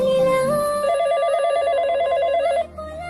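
A telephone rings loudly and alone in a repeating warbling electronic pattern for about two and a half seconds, then cuts off abruptly.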